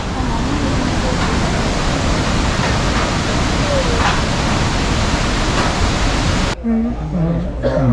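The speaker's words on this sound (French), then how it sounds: "On découvre les chutes avec des arcs-en-ciel magnifiques" The Iguazu waterfalls on the Argentine side roar as a dense, loud, steady wash of broadband rushing water, filling the scene without pause until a brief softer moment near the end.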